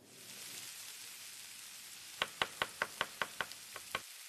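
Chopped garlic and tomatoes sizzle in hot oil in a pan as a quiet, steady hiss, followed by a run of about ten sharp knocks or taps in quick succession.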